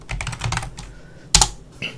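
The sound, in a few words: typing on a computer keyboard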